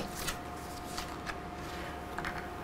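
Tarot cards being shuffled by hand, a close soft riffling texture with a few sharper flicks and slaps at irregular intervals, no talking.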